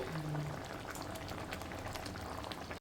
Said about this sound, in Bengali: গ্রেভিটা খুব সুন্দরভাবে ফুটছে